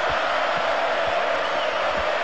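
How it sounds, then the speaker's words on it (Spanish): Broad, steady roar of a football stadium crowd applauding Newell's Old Boys players on a lap of honour after a league match, distant and continuous, with no clear voices standing out. "la tribuna de Independiente, que aplaude al equipo de Rosario"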